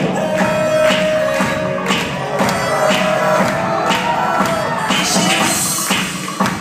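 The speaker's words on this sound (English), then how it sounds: "Come on, everyone, get those hands clapping." Wedding guests clapping and cheering as couples of the entourage make their entrance, a steady loud crowd wash with whoops and a host's voice over music in the background.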